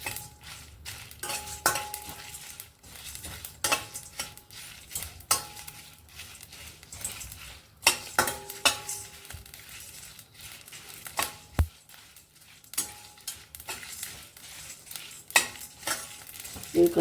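Dried red chillies frying in oil in a pan for palakura ullikaram curry, a soft sizzle broken by repeated scrapes and clinks of a spatula stirring, close and moderately loud, with no talking.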